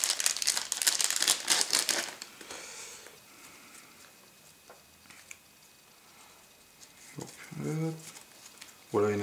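A wrapped pack of Runebound board game cards is torn open with a burst of crackly plastic crinkling at the start, then quieter rustling, with a voice talking near the end.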